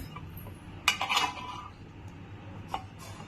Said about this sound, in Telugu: బ్రెడ్ అయితే పెడుతున్నా ప్యాన్లో